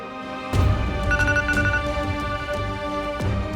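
A telephone rings with an expected call in an Indian household, its electronic tone starting abruptly and repeating in short bursts over a steady background, loud and close.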